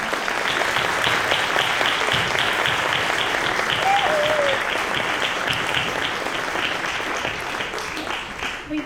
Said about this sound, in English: they deserve a big round of applause for all their work